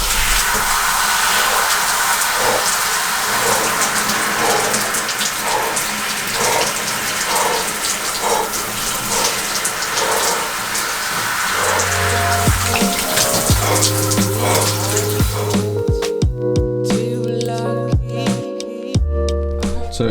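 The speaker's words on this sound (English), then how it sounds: "The next task to do on this morning routine is to have a cold shower." A cold shower runs in the morning with a loud, continuous rush and hiss of spraying water that fills most of the stretch, then gives way to a few clear tonal notes at the end.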